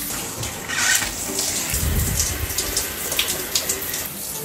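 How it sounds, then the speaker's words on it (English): Water runs steadily from a tap, splashing and gurgling as it fills something, close by with no talking. "time to add water"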